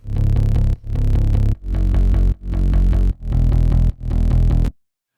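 Layered bass sounds from an EDM/rock remix of a country song play together in six loud, gritty pulses with short gaps between them, alone and close, then stop.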